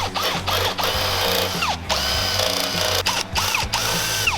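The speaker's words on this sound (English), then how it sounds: "We're gonna step bit these 2 holes, just make them a tiny bit bigger, and then drill out the motor mount hole." A power drill with a step bit enlarges two holes in a metal motor mount clamped in a vise, whirring loudly and close with a steady grinding bite and brief pauses and restarts.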